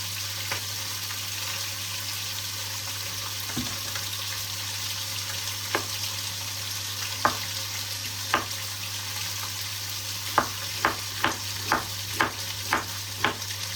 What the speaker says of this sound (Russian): И пока обжаривается мясо, приготовим остальные овощи.